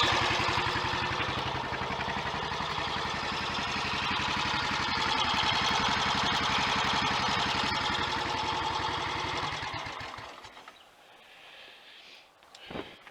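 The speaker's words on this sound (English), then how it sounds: "Exhaust is nice and clean, no horrible rattles or clatters." A Royal Enfield 500 single-cylinder motorcycle engine idles with a steady, even thump through its exhaust, close and continuous, then is switched off and falls silent near the end.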